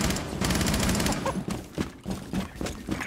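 Rapid automatic gunfire rattles in bursts in an online shooter video game, loud and dense at first and then breaking into shorter volleys, with in-game voices mixed in.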